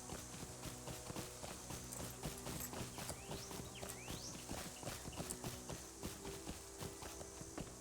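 Rhythmic clip-clop of a horse's hooves in Lord of the Rings Online, a steady fast-riding gait repeating close and clear throughout, over a constant background tone with no talk.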